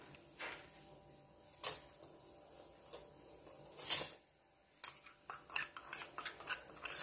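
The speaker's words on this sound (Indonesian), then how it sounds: "Kita aduk hingga dia merata." A spoon stirs a seasoning mixture in a bowl for fried fish with sour seasoning, giving quiet, close clinks and scrapes at irregular intervals, a few sharper knocks standing out in an otherwise hushed kitchen.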